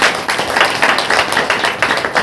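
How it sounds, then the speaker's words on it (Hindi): A church congregation claps hands together during a Saturday prayer meeting, a dense, steady patter of many overlapping claps with a loose rhythmic pulse, loud and continuous throughout. "ताली बजाकर"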